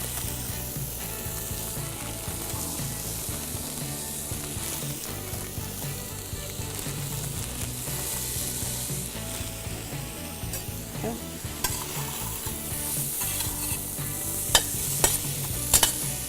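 Pre-cut butternut squash cooks in a hot pan for a bisque, a dense continuous sizzle with stirring scrapes throughout and a few sharp clicks near the end, with no talking.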